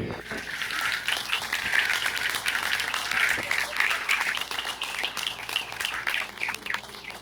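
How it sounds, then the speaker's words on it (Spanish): A church congregation applauds during a sermon, producing a continuous, fairly faint wash of many hands clapping that holds steady throughout with no voices standing out. "Denle un aplauso al Señor."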